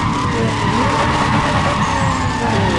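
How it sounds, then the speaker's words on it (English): A roaring race car engine in the video game Need for Speed ProStreet blares continuously and loudly, with tires screeching under the dense mechanical noise. "just listen to the raw madness of that engine."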